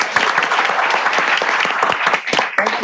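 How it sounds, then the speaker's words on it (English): Council chamber audience applauding for Laura at a city council meeting in Redondo Beach, a dense, steady burst of many hands clapping together, loud and close, with a few sharper individual claps standing out. "How about a round of applause for Laura?"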